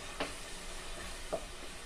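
Tomatoes for chicken curry sauté in a pan with a faint, steady hiss, broken by two brief spatula stirs.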